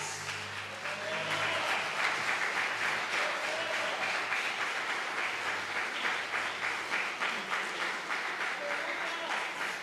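Church congregation applause rolls on evenly throughout, a dense wash of many hands clapping at moderate distance, with a faint voice or music tone underneath early on.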